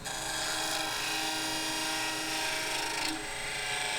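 Scraper cutting a tulip wood segmented vessel spinning on a lathe, a steady close rasping hiss with a constant motor drone underneath and a brief change in tone toward the end.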